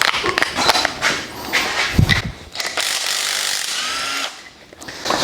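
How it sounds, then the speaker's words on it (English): A power tool, likely an impact wrench, spins off 15 mm extension housing bolts on a 4L60E transmission during an overhaul, in loud close bursts with short pauses between them and a clattering thump partway through. "we're going to remove the extension housing bolts, which are also 15 millimeters"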